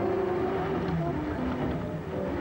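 A Bugatti Royale replica's engine drones steadily up close, its pitch wavering and dipping briefly as the gears are changed with a double declutch; no voices are heard.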